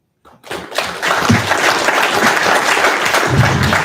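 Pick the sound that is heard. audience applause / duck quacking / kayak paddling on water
audience applause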